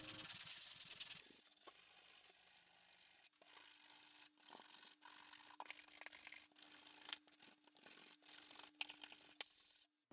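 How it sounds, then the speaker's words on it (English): Hand sanding on a wooden board being shaped into an adjustable monkey fist jig, faint rhythmic rubbing strokes with short gaps between passes over a steady low hum. "Now we're going to do a bit of sanding."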